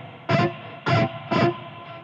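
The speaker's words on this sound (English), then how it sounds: "what I did not do well was control the noise when sliding my hand" Three noisy bursts of hiss and buzz come from a high-gain electric guitar as the hand slides along the strings, evenly spaced over a steady amp hum.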